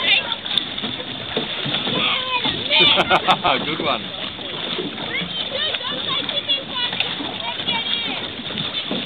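Water splashes and sloshes continuously during a water fight between small sabot sailing dinghies, heard close under children's and adults' chatter and shouts.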